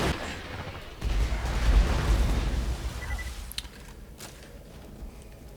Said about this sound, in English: There's definitely something buggy with our explosion sound effects before.